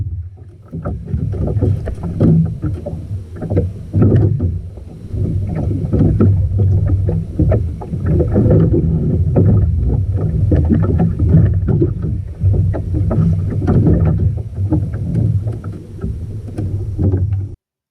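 Oars knock and splash rhythmically as a small DIY wooden sailboat is rowed on a lake at Baldwin Park, Florida, with steady wind noise buffeting the microphone throughout.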